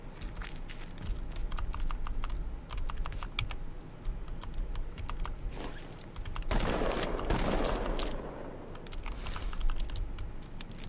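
Gunfire in the battle-royale game H1Z1 crackles in faint bursts behind constant, close keyboard clatter, with a louder volley near the middle before it fades back under the typing.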